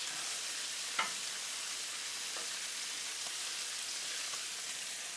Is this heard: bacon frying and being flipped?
yes